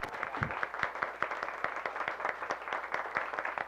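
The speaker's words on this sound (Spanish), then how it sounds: "Un fuerte aplauso, por favor." Applause from a group, brisk overlapping claps at moderate loudness, with a faint low rumble underneath.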